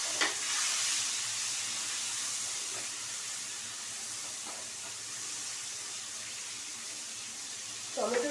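Finely chopped tomatoes with green chilies frying in a pan make a quiet, even sizzling hiss with a few faint stirring scrapes and a brief clatter at the end.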